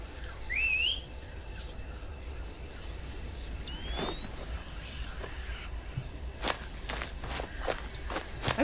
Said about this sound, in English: I'm gonna whistle.